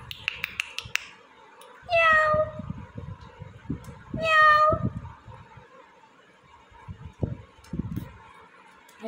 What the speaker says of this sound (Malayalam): ഐഫ പൂച്ചുണ്ട്.